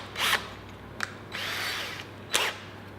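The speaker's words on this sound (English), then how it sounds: "you can go ahead and drill these straight through" A power drill bores straight through wood while building a simple coat rack, with short high whirring bursts, a longer steady drilling run and a final brief burst, fairly close and loud, with no one talking.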